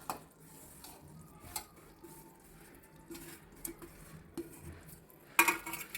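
A spoon clinks and scrapes in a pan as coconut powder is stirred into thick sugar syrup for coconut burfi, soft scattered taps over a quiet background, ending in a sharper metallic clatter.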